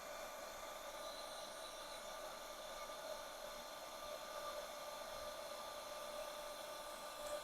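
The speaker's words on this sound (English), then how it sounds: "So go back in with the embossing gun." An embossing heat gun blows steadily on an inked craft tag, giving a constant, even, airy whoosh like a hair dryer that holds at the same level throughout, with no talking.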